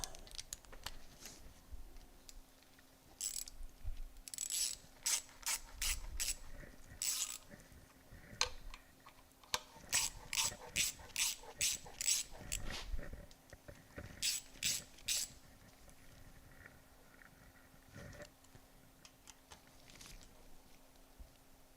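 A hand ratchet tightens a bolt in a garage, giving quick bursts of sharp metallic clicking in rapid runs separated by short pauses, close and fairly quiet, with no talking.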